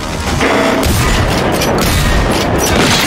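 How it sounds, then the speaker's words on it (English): An enemy fires on the player in Generation Zero: dense, loud, continuous gunfire and booming blasts fill the scene without a break. "he's shooting me"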